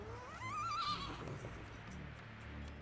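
Horse in the video game Medieval Dynasty letting out a single clear, rising and falling neigh near the start, followed by soft hoof clops and low background ambience.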